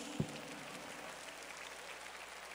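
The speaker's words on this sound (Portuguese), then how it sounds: "Você pode dar uma salva de palmas ao Senhor Jesus?" A church congregation claps together during a worship service, a broad wash of applause at moderate distance after a sharp knock at the start.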